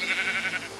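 A goat bleats in the video game Minecraft, a short, bright, wavering cry heard close and alone for under a second.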